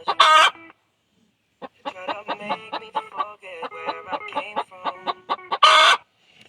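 At close range, a chicken in a home gives a rapid series of rhythmic clucks, framed by two louder, harsher squawks at the start and end, with no talking.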